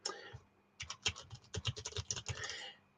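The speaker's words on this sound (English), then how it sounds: "I'm poking my tiny keyboard." Fingers tap quickly and irregularly at a tiny computer keyboard, close to the mic and fairly quiet, with clustered clicks and short pauses and no talking.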